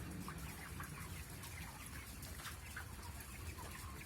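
Chickens cluck and chatter in a busy, continuous flock, with overlapping calls against a constant background din.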